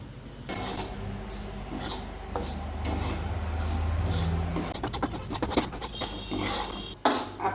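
Semolina being stirred and roasted in a pan for sheera, a continuous close scraping and rasping of a spoon against the pan bottom with a few brief clinks and knocks.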